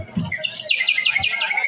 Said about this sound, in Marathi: पक्ष्यांचा किलबिला